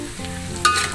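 Kampung-style fried rice being stir-fried with seasoning paste in a hot pan, a loud, continuous sizzle with a sharp scrape of stirring partway through.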